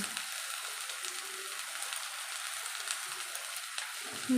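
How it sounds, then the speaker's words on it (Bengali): Chopped onion and green chilli frying in hot oil, a soft, even sizzle and crackle heard close up, steady throughout with no voices. "এইবার এই তেলে পেঁয়াজ কুচি আর লঙ্কা কুচিগুলো দিয়ে দেবো দিয়ে ভালো করে ভেজে নেব"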